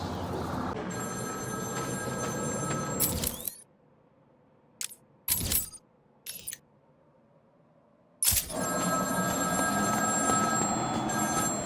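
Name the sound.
telephone ringing in the video game Batman Arkham City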